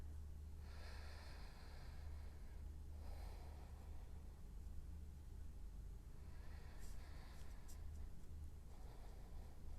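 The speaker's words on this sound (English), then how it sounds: "We'll take a few strong breaths here. Inhaling through your nose. And exhaling out of your nose." A few strong, forceful breaths in and out through the nose, soft and close, with the rushing airflow rising and falling in slow cycles over quiet background hiss.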